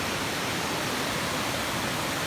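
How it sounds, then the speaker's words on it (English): A waterfall near a winter hammock campsite gives a steady, broadband hiss of rushing water with no breaks and no voices, moderately loud and even throughout. "There's that waterfall you see at the start of the video"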